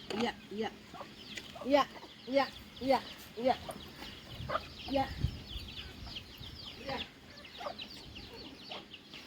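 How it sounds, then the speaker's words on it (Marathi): Several chickens in a village yard cluck in a run of close, rhythmic bursts, then fall into softer, scattered clucks, with a faint voice in the background. "केवढ्या कोंबड्या आहेत ह्या कोंबड्यांमुळे माझे बाबा आणि सासू कुठे जात नाही"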